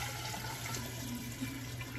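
Cooled tea is poured from a container into a jar set in a sink, a steady liquid pouring and trickling sound, close and continuous.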